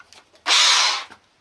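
A cordless hammer drill bores a hole during an air compressor restoration, one loud, harsh burst of about half a second that starts abruptly and winds down, with quiet before and after.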